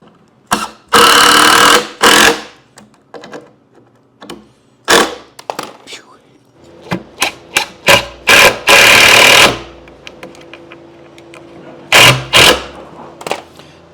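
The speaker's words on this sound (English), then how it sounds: "So I'm going to start some screws" A power driver sets screws into a rolling workbench in loud, separate bursts of whirring, some brief and some sustained, with quiet pauses between them.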